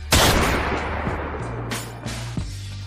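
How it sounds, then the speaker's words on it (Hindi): Two sharp gunshots ring out in a dubbed comic scene, the first loud and close with a long echoing tail, a second following a couple of seconds later. "ये 2 गोली चलने की आवाज थी।"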